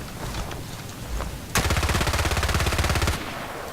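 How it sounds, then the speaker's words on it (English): FAMAS rifle firing in Battlefield Play4Free: a sustained, evenly paced automatic burst of about 1.5 seconds, loud and close, after quieter game ambience. "now let's try with the FAMAS"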